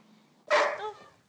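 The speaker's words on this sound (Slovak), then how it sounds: "To nič, to je môj pes." A dog in a film scene gives a single loud bark that trails into a short whine, with quiet background before it.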